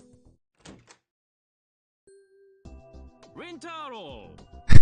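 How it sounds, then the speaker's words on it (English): A door is flung open in the video game Steins;Gate 0. A few soft clicks and a steady tone build into warbling, voice-like sweeps, then a sudden loud, sharp bang at the very end. "A heavy knock, the door to the booth flung open."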